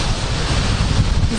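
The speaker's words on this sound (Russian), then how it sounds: "Море такое сегодня. Штормит." Stormy sea surf breaks continuously at a beach on the Azov Sea, a loud, dense wash of waves mixed with strong wind buffeting the microphone, with no voices.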